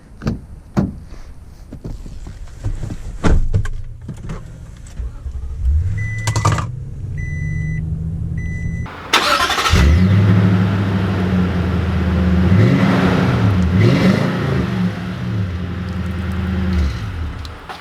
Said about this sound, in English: let's take this 2020 Tundra out to see how it drives